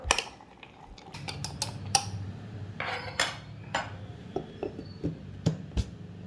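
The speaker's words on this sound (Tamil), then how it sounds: "நல்லா மிக்ஸ் பண்ணி விட்டுருங்க." Fruits being mixed in fresh juice in a bowl for a Christmas plum cake, heard as a series of close, sharp clinks and taps of a spoon against the dish, irregular and fairly quiet, with no talking.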